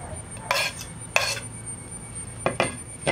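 Egg white being mixed into an egg sandwich filling in a bowl, a few short scraping clinks of a spoon against the bowl separated by quiet pauses, near and fairly soft.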